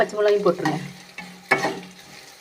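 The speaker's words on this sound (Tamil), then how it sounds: "ஏன்னா எண்ணெயில் தானே எல்லாமே பொரிக்கிறோம்" Chana dal, urad dal, curry leaves and green chillies fry in hot oil, giving soft crackling sizzles with a few sharp pops as ingredients are added and stirred, while someone talks over the cooking.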